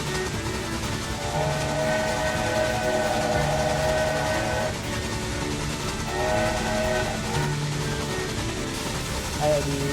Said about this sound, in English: love the sound of a train whistle